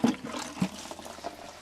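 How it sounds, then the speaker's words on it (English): Water from a watering can splashes and trickles onto already moist soil in a winter greenhouse, a steady close pour with uneven spattering and no voices. "I'm simply going to use a water can"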